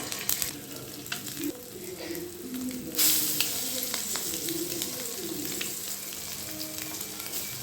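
Chopped onions and an egg sizzle in hot oil in a pan while an egg roast cooks, a steady, close frying hiss with small crackles throughout.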